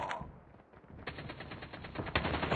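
Rapid automatic gunfire in the mobile shooter game Call of Duty Mobile, loud continuous bursts of shots with short breaks, heard alone without talk.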